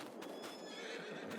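A horse in the video game Farming Simulator 22 gives a loud, close whinny lasting over a second, with clip-clop hoof sounds mixed in.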